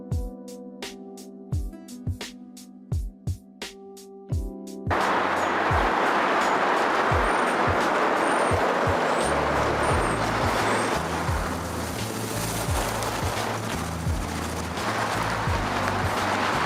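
A 1985 Dodge Ram first-generation Prospector pickup, freshly tuned up, starts with sharp rhythmic clicks and taps, then pulls away into a steady, close engine drone with road noise that holds for the rest of the drive.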